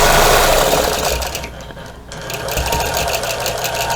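Sewing machine quilting a star and tulips place mat, a close, steady mechanical whir of rapid stitching that slows and pauses briefly midway, then resumes.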